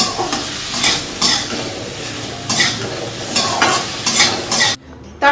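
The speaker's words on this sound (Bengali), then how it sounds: "এর মধ্যে এই ফুলকপি আলু ভাজাটাকে দিয়ে দিলাম" Fried cauliflower and potato are stirred into a curry in a pan, with loud close sizzling and repeated scraping stirs in uneven bursts, ending in a short quiet pause.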